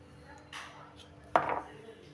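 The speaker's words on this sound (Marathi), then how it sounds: "आता आता मी चिरून घेतलं आहे" A knife chops ridge gourd on a board, two distinct thuds about a second apart, the second louder, in a quiet home kitchen.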